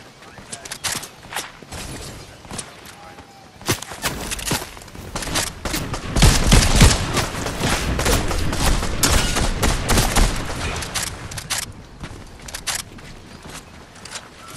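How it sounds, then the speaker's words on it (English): Gunfire in a first-person shooter video game, with bursts of rapid shots and single cracks scattered throughout, getting denser and louder midway, mixed with in-game effects and background noise. "Oh yeah, he's definitely over there shooting at me."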